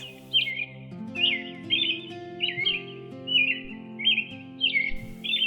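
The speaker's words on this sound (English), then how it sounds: "Birds." Morning birdsong: several birds trade bright chirping phrases in repeated bursts about every second, clear and fairly close, over a steady low hum underneath.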